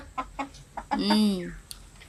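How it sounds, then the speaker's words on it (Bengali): A short run of hen clucks, a few quick notes followed by a longer drawn-out call, close by and fairly loud. "আমার মুরগিগুলো আমাকে দেখে কি করে"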